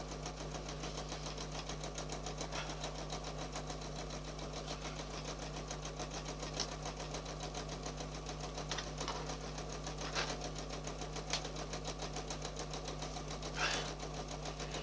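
A sewing machine stitches decorative patterns around a 15-inch circle at medium speed, a steady close-up mechanical hum and rapid rhythmic needle clatter running unbroken throughout, with a few light clicks and no talking.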